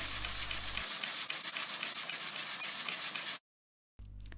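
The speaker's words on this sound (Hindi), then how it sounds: "प्रेशर हमने रिलीज़ किया और इसका लिड खोला" A pressure cooker on the stove vents steam while cooking carrots for gajar ka halwa, a loud steady hiss for over three seconds that cuts off abruptly, then a fainter hiss resumes briefly.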